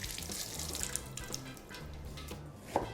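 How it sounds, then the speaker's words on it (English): Running tap water splashes over produce being washed in a kitchen sink for a green drink, a steady soft stream with scattered drips and small clinks, close and unaccompanied by speech. "I'm going to give it a bit of a wash"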